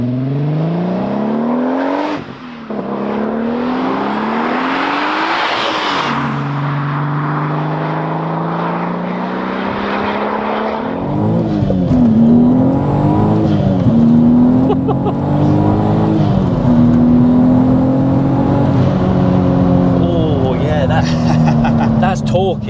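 A boosted 470bhp VW Golf MK5 R32 accelerating hard on the road, its engine note climbing through repeated gear changes, loud and close from inside the car, with people talking over it.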